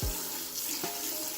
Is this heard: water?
yes